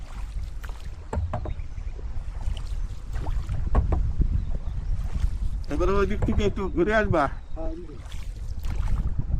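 A rowboat with a boatman carries a passenger across a lake beside a mud-house resort; steady water and wind noise runs throughout, with someone talking over it and a brief sung passage partway through.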